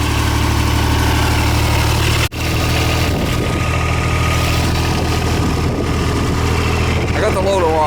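A John Deere 318 garden tractor engine idles loudly and steadily up close, a continuous low rumbling drone with one brief dropout, while faint handling noises come through near the end.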